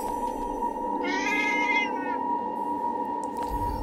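A cat with goat horns meows once, a drawn-out, wavering cry over a steady humming game soundtrack in Forspoken.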